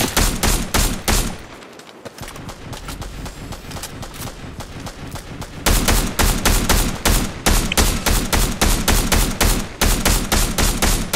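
Rapid automatic gunfire in the video game Fortnite rattles in dense loud bursts, eases briefly into quieter scattered shots, then resumes in sustained close volleys.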